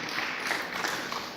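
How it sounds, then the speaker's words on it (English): An audience at Social Media Week 2013 in Malaysia applauds to welcome the Prime Minister, a brief steady patter of many hands clapping at moderate volume. "A big round of applause, please, in appreciation of his presence"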